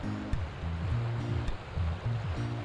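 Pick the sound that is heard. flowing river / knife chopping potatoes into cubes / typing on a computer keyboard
flowing river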